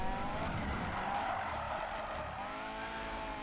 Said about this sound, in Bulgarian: И нека видим дали дрифти по-добре.